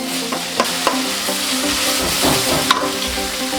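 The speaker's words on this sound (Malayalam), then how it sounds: "സ്ലൈസ്ഡ് ക്യാപ്സിക്കം ആഡ് ചെയ്ത് നല്ലപോലെ ഒന്ന് സോട്ട് ചെയ്തെടുക്കുക." Sliced capsicum and onion sautéing in a pan, a steady, fairly loud sizzle with a few sharp clicks of a spatula against the metal, no voices.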